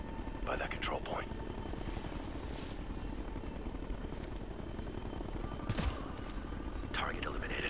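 A helicopter in the video game Ghost Recon Future Soldier drones as a steady low rotor rumble under a battlefield scene, with brief radio-style voices and sharp clicks or shots over it.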